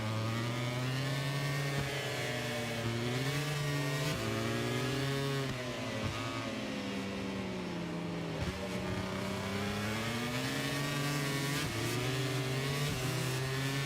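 A heavy racing motorcycle in a MotoGP video game revs continuously and loudly, its engine pitch climbing and dropping through repeated gear shifts and throttle swells for the whole stretch, with no voices over it.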